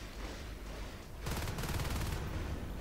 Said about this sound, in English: Oh, look at that, what the LMG is doing to the low health points, Kulk.